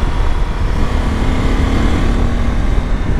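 Riding a Honda CB500X motorcycle on a test ride brings a constant rush of wind roar blended with a steady engine hum, loud and unbroken for the whole stretch.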